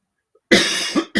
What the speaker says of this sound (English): don't know where that cough came from today